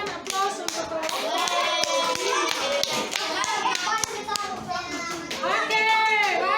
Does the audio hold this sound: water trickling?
no